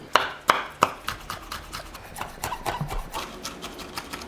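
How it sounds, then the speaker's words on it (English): Fresh tomatoes being chopped on a cutting board, with three sharp knife strikes at the start followed by a quicker run of lighter rhythmic chops, close and clear. "We just need to chop these up nice and small."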